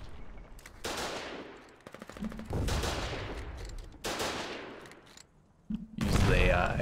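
Bursts of gunfire from a vehicle in the war game Foxhole, several loud rapid volleys with decaying echoes separated by brief pauses, and faint voices underneath.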